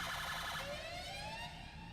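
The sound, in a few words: police car siren from a video game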